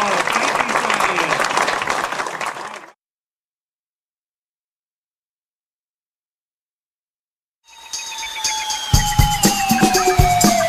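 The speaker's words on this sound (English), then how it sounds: "a great big round of applause" Audience applause at a magicians' club show in Blackpool, a loud burst of clapping that stops abruptly, then a long silence before clapping resumes over a rising tonal effect.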